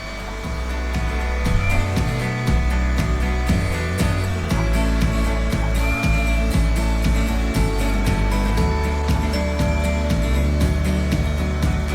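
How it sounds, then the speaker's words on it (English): A vacuum cleaner runs steadily and loudly while cleaning the emptied floor of a skoolie bus, a continuous droning whine with repeated clacks and bumps as the nozzle moves, and no talking. "I'm going to go ahead and vacuum the rest of this"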